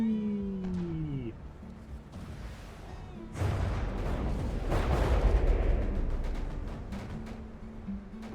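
Bombs from an aircraft fall and explode in the game From the Depths, with a low rumbling blast building partway through and rolling on under a steady droning engine tone.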